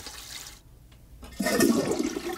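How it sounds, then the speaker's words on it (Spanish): A toilet flushing: a short click and pause, then a loud rush of swirling water filling the bowl, close and alone with no voices. "Con solo tirar de la cadena, bingo, todo desaparece en el remolino de agua del retrete"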